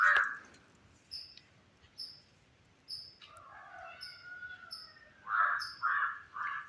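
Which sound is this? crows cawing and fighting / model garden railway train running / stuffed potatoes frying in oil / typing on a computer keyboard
crows cawing and fighting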